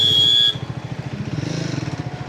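A Triumph Speed 400 motorcycle rides along at low speed through a U-turn, its engine thudding in a steady pulsing rhythm, close and moderately loud after a brief high whine at the start.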